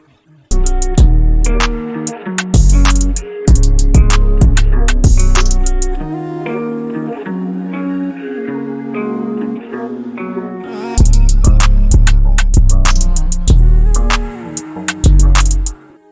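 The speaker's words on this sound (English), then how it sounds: "Adds some really cool delays, reverb, and this is what gives it that ambience, that really nice wavy sound" Vocal ad libs drenched in Valhalla Supermassive reverb and delay on default settings, with wide, washy echo tails swirling behind bursts of music in a loud, full mix.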